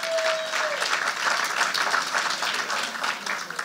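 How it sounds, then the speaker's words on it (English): An audience at a creative writing competition and exhibition ceremony claps steadily and warmly for a few seconds, a dense, continuous applause filling the room. "Clap our man, yes."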